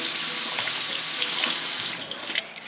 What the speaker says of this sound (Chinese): 在把土豆洗干净